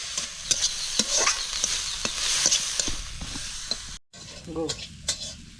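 Brahmi greens fry and sizzle in hot ghee while a spatula scrapes and stirs, giving sharp clicks over the crackle. There is a short break near the end.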